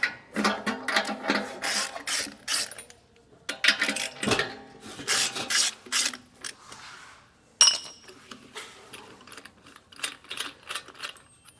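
Lug nut covers are loosened and pulled from a wheel simulator on a 2020 Forest River Georgetown motorhome, giving close, intermittent clicking, ratcheting and scraping bursts separated by short pauses.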